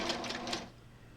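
A sewing machine chain piecing fabric gives a brief whirring, rapid stitching burst up close that stops after about half a second, leaving quiet room tone.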